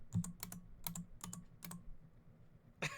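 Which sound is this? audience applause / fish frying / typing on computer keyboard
typing on computer keyboard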